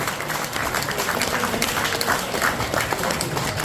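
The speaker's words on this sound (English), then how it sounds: "give yourselves a round of applause" Sustained audience applause fills a room at a private evening event and film screening, dense steady clapping from a crowd close by with no talking over it.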